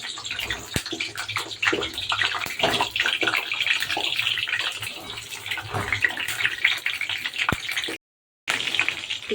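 Running water splashing steadily over eggplants with their stalks still on, a close, continuous gushing wash with small clatters as the vegetables are handled, briefly cutting out near the end.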